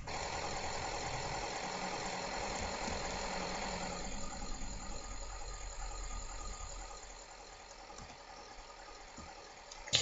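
Tractor engine idling in the Farming Simulator 2011 game, a steady mid-pitched drone that softens partway through and continues quieter to the end.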